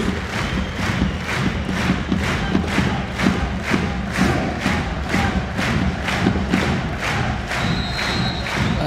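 Crowd cheering at a German volleyball cup semifinal, Schweriner SC against VC Wiesbaden, with steady rhythmic thumping of clappers or drums under loud continuous fan noise throughout.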